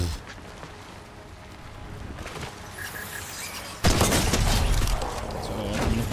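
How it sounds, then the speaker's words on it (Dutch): Gunfire in the Fortnite battle royale video game, a rapid burst of shots behind the players that grows louder and denser midway, mixed with game noise and engine rumble from a car. "Achter ons schoten."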